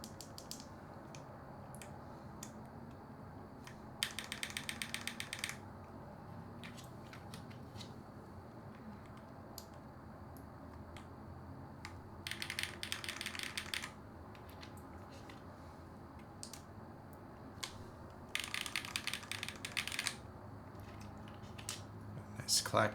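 Bursts of clacky keystrokes from a Typeface Monospace mechanical keyboard come in several quick runs separated by pauses, over a quiet room hum.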